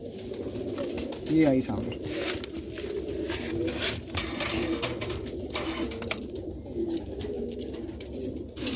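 Golden and Sialkoti pigeons coo in a breeding loft, soft repeated cooing running throughout with a louder burst early on, while someone talks over the birds.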